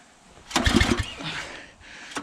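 A log splitter's small engine, started on choke, sputters and turns over in a brief burst, chugging unevenly for about a second before fading to a rough murmur, then a short rev.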